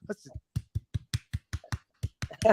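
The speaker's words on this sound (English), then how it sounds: "we'll do our own claps." A handful of people clapping their hands in a quick, uneven series of about a dozen sharp, close claps, with a voice breaking in briefly between them.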